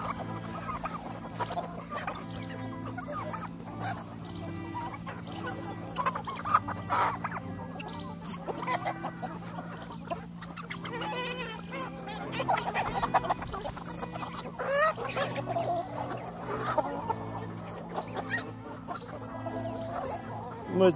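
Chickens cluck and chatter continuously around a homestead feeding spot, mixed with other poultry calls at moderate distance over a steady low background hum.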